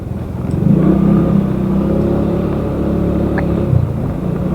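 Large trucks rumble along a rough quarry road, a heavy low engine drone swelling and holding steady, loud and close throughout, with no talk.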